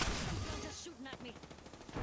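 Gunfire from a firefight in the battle royale game Apex Legends, a dense two-second burst of rapid shots over a continuous noisy mix with voices talking.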